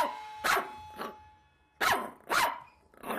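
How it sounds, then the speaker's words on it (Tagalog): A dog barks in the night during a Filipino aswang horror story, four loud, sharp barks in two pairs with short pauses between, close and clear with no talking. "Hanggang sa naging normal na tahol na lamang iyon."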